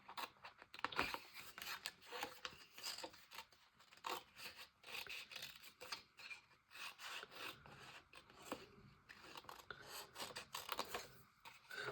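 Scissors cut a paper label while a scrapbook album cover is being decorated. Quiet, close snips and paper rustling come in irregular bursts, with no talking.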